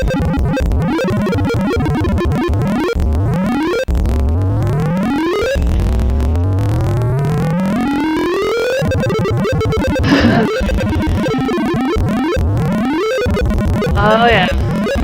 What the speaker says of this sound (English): you definitely get the kind of 1960s, sound tone generation there